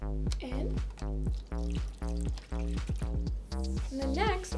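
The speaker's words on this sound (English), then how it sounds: "let's first pour the water in" Water poured into a glass in a series of short, regular bursts with a rising glug-like pitch as it fills, fairly close and clear, with a brief voice near the end.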